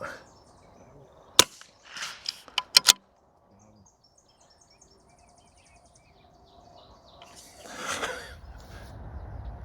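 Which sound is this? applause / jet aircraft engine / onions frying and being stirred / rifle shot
rifle shot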